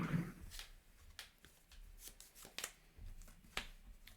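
Playing cards are handled during a tabletop card game, with soft slaps, flicks and rustles in irregular bursts, quiet and near, with no talking.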